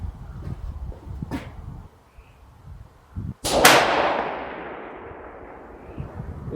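A rifle fires at long-range steel targets: one sharp, loud shot cracks out and its report rolls away over several seconds, after scattered quieter knocks and handling sounds, with no speech.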